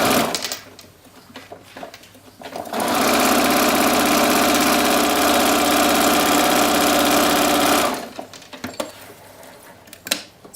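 A sewing machine stitches a straight seam down a piece of fabric for a dress, a loud steady mechanical whirr running about five seconds, preceded and followed by quieter handling sounds.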